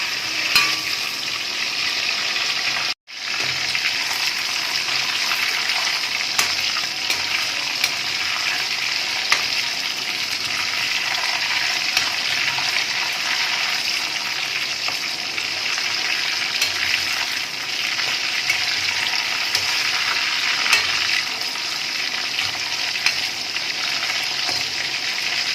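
Chicken pieces frying in hot oil make a steady, loud, dense sizzle that runs continuously, broken only by one brief silent gap near the start, with no voices.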